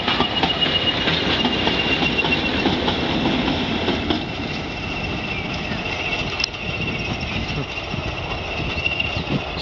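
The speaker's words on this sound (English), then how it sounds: "Dining train." A diesel train rolls past on the Swanage Railway during a 2013 diesel gala, as a continuous, fairly close rumble of engine and wheels that eases slightly halfway through, with voices chatting nearby.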